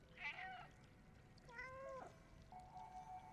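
Cat meowing in the video game Stray, three separate meows spaced about a second apart, soft and close over a quiet background hum.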